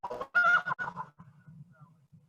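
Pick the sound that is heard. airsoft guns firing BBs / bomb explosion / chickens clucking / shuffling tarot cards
chickens clucking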